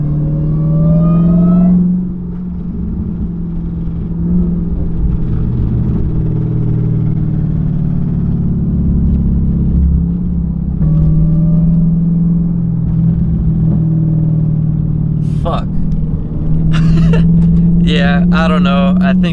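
A Dodge Hellcat with a failing transmission or torque converter revs repeatedly from inside the car, its loud rumbling engine rising and falling in several pulls while someone talks over it.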